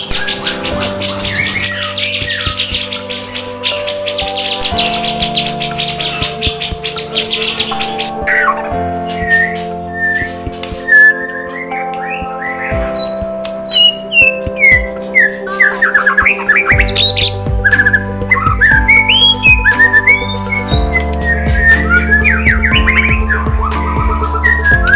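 A magpie robin at a bird farm sings loud, varied whistles, chirps and rapid trills in quick bursts, with a steady low hum underneath and no talking.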